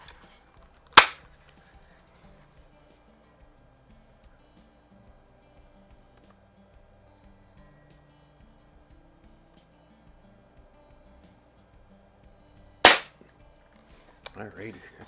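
Two sharp, snappy shots from a Daisy 753S single-stroke pneumatic air rifle, one near the start and another about twelve seconds later, with near silence between and faint handling sounds at the end.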